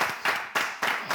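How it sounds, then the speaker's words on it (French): A studio audience applauds on a French live show, with sharp rhythmic clap bursts arriving roughly every third of a second, each fading before the next, close and fairly loud. "On applaudit."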